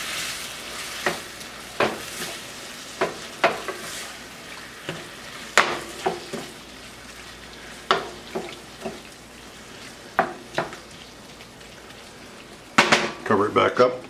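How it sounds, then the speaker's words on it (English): Chicken tikka alfredo sizzles softly in a pan while a spoon scrapes and knocks against it in a dozen or so distinct stirring strokes, with a louder clatter near the end. "I'm going to stir it up."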